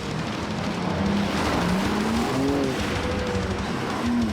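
A BMW car slides sideways under power at a driving event, its engine a loud, continuous drone whose revs climb and fall as it holds the drift, with constant road and tire noise and no talking.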